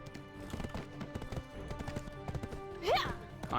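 Horse hooves clip-clop in a steady, rhythmic gait in the online game Black Desert Online, moderately close, with a brief whinny-like rising call near the end and faint background game sounds.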